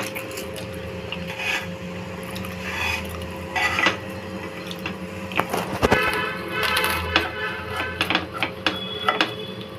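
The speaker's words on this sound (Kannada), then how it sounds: "ಈಗ ನಾನು ಈ ಕತ್ರಿನಲ್ಲಿ ಕಟ್ ಮಾಡ್ತಾ ಇದ್ದೀನಿ." Scissors snip through a hot keema bread sandwich with crisp, irregular cutting and crunching clicks, louder toward the end, over a steady background hum.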